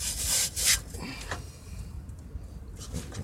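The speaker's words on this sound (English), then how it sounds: "all you would have to do is just pull your drive shaft out" A drive shaft slides out of a Ford transmission with a close scraping, rubbing metal sound. It opens with a couple of louder rasping pulls, then fades to a quieter grinding slide.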